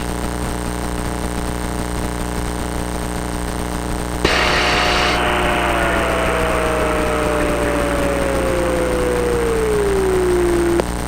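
A light aircraft engine runs up from a steady idle to a loud, close roar, whose pitch then slowly sinks as it settles back, with constant propeller drone throughout and no talk.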